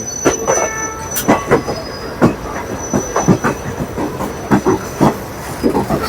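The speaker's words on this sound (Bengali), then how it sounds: "এখন আমাদের উল্টো দিক দিয়ে যাচ্ছে হচ্ছে হাওড়া কালকা নেতাজি এক্সপ্রেস" The Howrah Kalka Netaji Express passing on the opposite track, heard from a moving train: loud repeated clickety-clack wheel beats and rattling, with faint squeals and hiss over a steady rumble.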